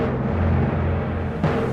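Film score passage with orchestral risers swelling under a drum fill, dense and sustained at steady loudness, with a brief sharp accent near the end.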